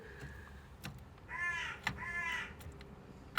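Two harsh crow caws from a pet bird named Bird at home, each a drawn-out rasping call, close and loud, alone with no talking.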